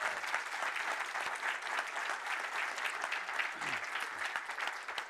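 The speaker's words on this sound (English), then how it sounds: "Give them a round of applause." Conference audience applause in a hall at a web accessibility talk, a steady dense crowd of clapping holding level for about five seconds, moderately distant with no talking over it.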